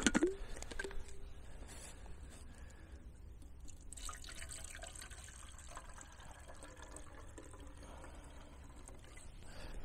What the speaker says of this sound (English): Now we're going to get a little bit more water going so I can make some coffee.